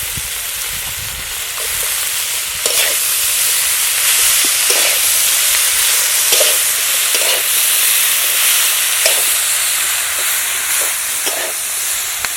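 Malabar spinach fries in a pan with a continuous broad sizzle and hiss, steady and close, with faint clinks of utensils now and then and no voices.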